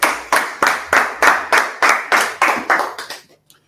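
A crowd at a gathering claps in unison, about ten loud, evenly spaced claps that slow and fade at the end, close and clear with no talking.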